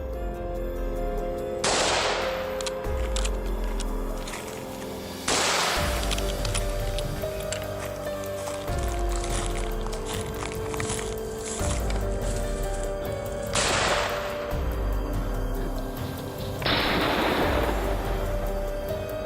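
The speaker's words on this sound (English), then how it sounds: "keeps firing off accurate shots one after another" Rifle shots fired at wild boar during a farmland hog hunt, four sharp loud cracks spaced a few seconds apart over steady outdoor background noise, no talk.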